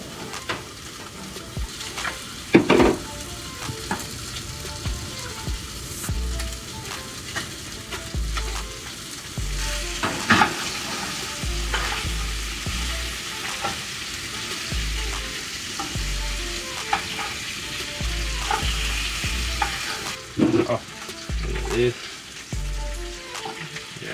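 Fish fries in a pan over a campfire cook-up, a continuous sizzle with repeated scraping and knocking as it is moved about, and someone talks intermittently over it.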